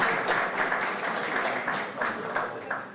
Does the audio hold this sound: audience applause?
yes